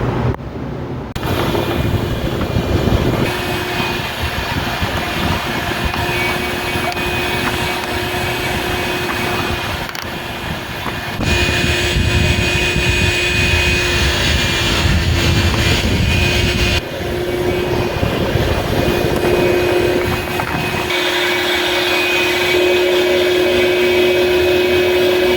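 A shop vac runs steadily and loudly while cleaning built-up crud out of a shop air handler, a continuous whining motor drone with a brief dip in the middle before it settles back to full strength.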